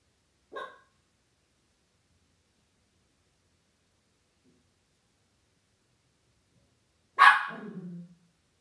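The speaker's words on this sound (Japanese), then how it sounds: "近くの家の犬が吠えたりすると" A neighbouring house's dog barks twice, a short single bark near the start and a louder, fuller bark near the end, both somewhat distant, with long silence between them.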